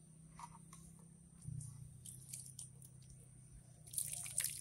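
Liquid solution splashing and dripping over cut potato pieces in a small container, soft intermittent drips building to a brief brighter splash near the end, faint and close.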